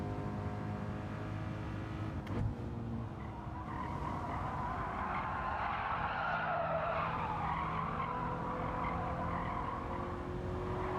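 A race car in Gran Turismo 7 slides through a corner with a steady tire squeal and skid over a continuous engine drone, loud and unbroken for the whole stretch, with a brief knock early on.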